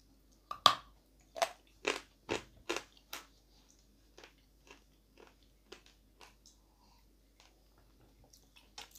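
Edible chalk of the krupinka variety crunches sharply as it is bitten, a handful of loud crisp bites followed by a series of quieter, evenly spaced chewing crunches, close up and without speech.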